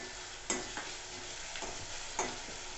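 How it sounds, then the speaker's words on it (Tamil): Ginger garlic paste sautés in a pan for prawn thokku, giving a soft, steady sizzle broken by a few sharp spoon clinks and scrapes as it is stirred, with no voices heard. "இதில் இஞ்சி பூண்டு பேஸ்ட்டு சேர்த்துக்கலாம். நம்ம பச்சை வாசனை போகிற அளவுக்கு நல்லா வதக்கிக்கலாம்."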